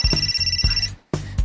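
An electronic telephone ringtone sounds in short repeating bursts with a brief gap, loud and close, with no voices over it.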